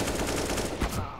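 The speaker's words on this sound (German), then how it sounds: "dass da so viele Schüsse auf hintereinander rausballern" Rapid automatic gunfire from the Counter-Strike: Global Offensive video game, a dense continuous burst of shots filling the short stretch at steady loudness.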